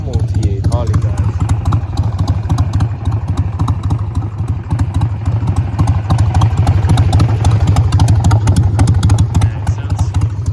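A 2001 Harley-Davidson Sportster 1200 Evo built in chopper style idles steadily nearby with a deep, lumpy, rapid pulsing and some mechanical clatter, loud and continuous throughout.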